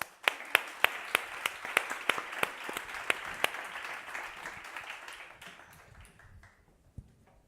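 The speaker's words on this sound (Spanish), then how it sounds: "Un aplauso." A small audience applauds after a Fundación Cajasol talk on social media, big data and growth hacking, with a few sharp individual claps standing out, then the clapping gradually thins and fades to near silence, one last clap at the end.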